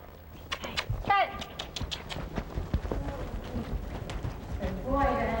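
Hooves clip-clop in a quick trot as a horse moves fast during a therapeutic horseback riding session, the rhythmic beats close and clear amid frequent talk and encouragement from people nearby.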